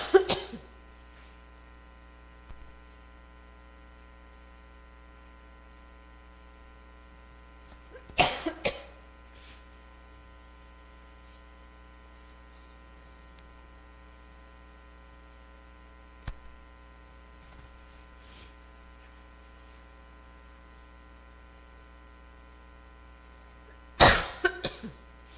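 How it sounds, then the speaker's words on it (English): A person coughing in short bursts, three main clusters spaced well apart plus a faint one between, close to the microphone over a constant low mains hum in a quiet room. "So, I'm going to have the coughing fit again here"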